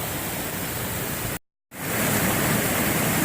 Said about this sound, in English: There is water coming from everywhere.